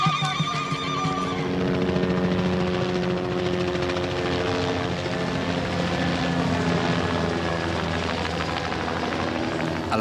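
A helicopter's rotor thumps steadily throughout in Namibia, a continuous droning chop that stays fairly constant in loudness.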